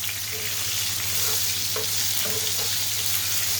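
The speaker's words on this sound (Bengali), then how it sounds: "টমেটোটা আমার প্রায় ভাজা ভাজা হয়ে আসছে" Tomato and spices for chicken biryani fry in a pan as a continuous close sizzle, with a few soft spatula scrapes and clinks, no talking.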